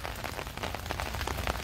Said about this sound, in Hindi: बड़ी मसलादार तेज़ बारिश हो रही है